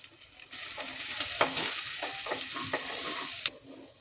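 Spices frying with turmeric and salt in a pan with a little oil, a steady broadband sizzle with several sharp spoon scrapes and taps as the mixture is stirred, close and fairly loud, no voices.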